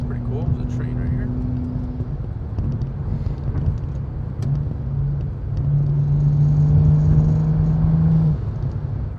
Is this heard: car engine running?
yes